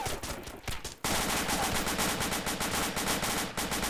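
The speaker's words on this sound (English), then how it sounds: "shooting at us from across the road" Rapid automatic gunfire from across the road in a video game firefight, loud dense bursts that become a continuous rattling fusillade after a short pause, with no talking.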